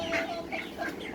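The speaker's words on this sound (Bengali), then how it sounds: "দেশি মুরগি" Desi chickens cluck in soft, quick repeated calls mixed with other farm birds kept in an open yard, a faint steady background murmur underneath.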